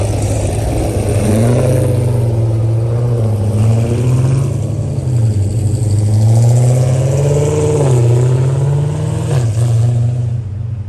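Dodge Hellcat cars at a car meet rev their supercharged V8 engines loudly and up close, the pitch rising and falling in repeated sustained pulls over a heavy rumbling idle.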